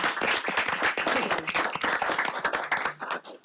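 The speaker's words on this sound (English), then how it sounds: "let's start right now with a clap to those people" Audience applause at a county board of commissioners' meeting, offered as thanks to staff: dense, sustained clapping from many hands that fills the room for several seconds before tapering slightly at the end.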